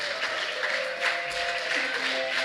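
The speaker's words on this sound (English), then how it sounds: "And you clap. Everybody clap." Audience at a live folk music show clapping steadily along in rhythm, a dense crowd patter with a faint instrument tone underneath.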